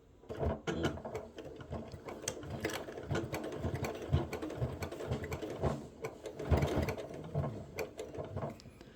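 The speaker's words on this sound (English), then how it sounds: "put it under the machine, and then just sew a little box there to secure it" A sewing machine stitching a small securing box onto a bag strap, with short bursts of rapid needle chatter broken by brief pauses as the fabric is turned, close and fairly quiet.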